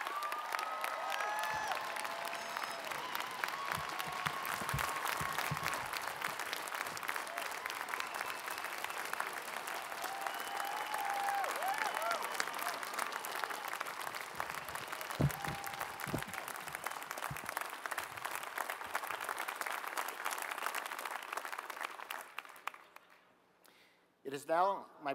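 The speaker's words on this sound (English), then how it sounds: "join me in a round of applause for your 16-year tenure as president of Stanford" A large commencement audience at Stanford applauds the university's outgoing president after a 16-year tenure, a dense sustained roar of clapping that holds steady for over twenty seconds, then thins and fades out near the end.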